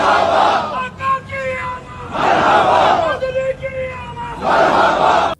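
A large crowd chants a slogan in unison, loud and close, in three rhythmic surges of massed voices with brief dips between them, suggesting a call-and-response religious gathering.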